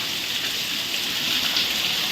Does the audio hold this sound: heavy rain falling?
yes